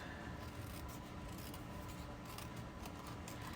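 Scissors trimming paper for a linen-themed stationery suite, a quiet continuous cutting and rubbing texture close by, with no speech.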